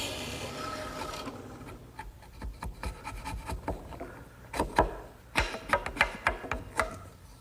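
A drill press roughs out a mortise in wood with a 1-inch Forstner bit, giving a series of quiet, uneven scraping and chattering cuts that grow sharper toward the end, with no talk.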